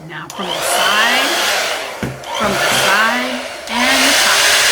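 A handheld hair blow dryer drying wet paint blows loudly in repeated surges, its airflow dipping briefly twice as it is moved around the painted surface, with faint tonal sounds underneath.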